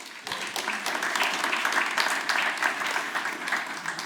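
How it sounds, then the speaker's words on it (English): An audience at a data science conference presentation bursts into applause, a dense, even wash of clapping that swells after a brief quieter start and holds steady for about four seconds. "give Raphael Tamaki a big clap"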